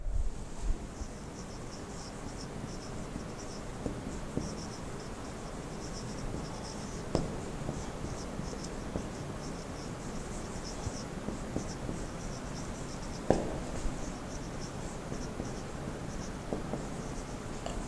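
Chalk or marker scratching across a classroom board during a physics lesson, faint, continuous strokes over a steady hiss and a high insect-like drone, with no talk.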